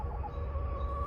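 An unhappy hen on a homestead makes a sustained, close, droning complaint, a steady low grumbling cluck with a wavering pitch.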